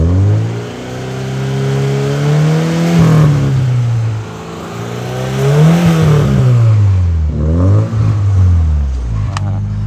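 A Hyundai Accent sedan's engine revved up and down several times, close and loud, each rev rising in pitch then falling back to idle.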